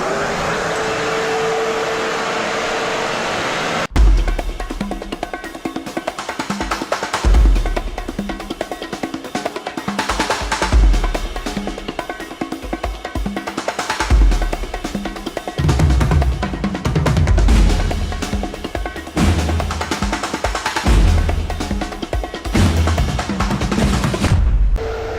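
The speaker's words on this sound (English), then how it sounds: "We're going to go ahead and start our last HEPA vacuuming" A HEPA vacuum runs during mold cleanup in a home, a steady loud whine at first, then uneven surging and bumping as the nozzle works over surfaces up close.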